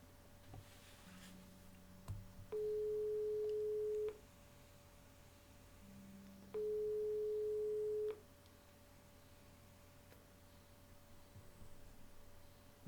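A phone call rings out unanswered in the Broken Sword 5 video game, two long steady tones of ringback about four seconds apart over a quiet low hum, with no voice picking up.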